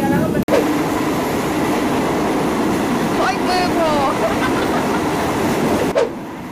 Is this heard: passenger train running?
yes